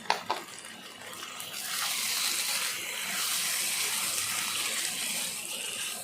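Rinse water from a mixer grinder jar is poured into a potato curry, beginning with a couple of clinks and then a steady splashing gush that stays fairly even.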